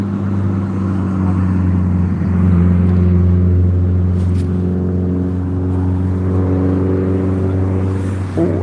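A Mercedes convertible heard from the seaside, its engine a steady, loud low rumble that holds throughout with no clear rise or fall of a pass-by, as if the car stays close.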